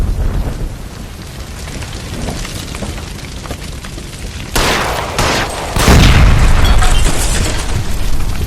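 A gas line blows up in the L.A. Noire video game, with a sudden loud, close blast and rumbling debris following a stretch of lower, busy background noise.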